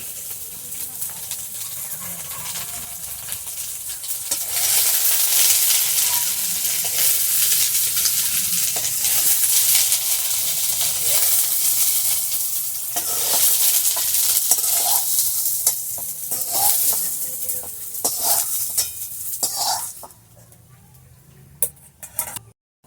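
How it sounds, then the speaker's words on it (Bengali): Soya chunks fry loudly in hot oil in a pan, a dense continuous sizzle broken by scraping stirs, before the sound drops away near the end, leaving a few faint clinks. "সোয়াবিনগুলো আমি ভেজে নিয়েছি, বেশি ভাজবো না, হালকা করেই ভেজেছি।"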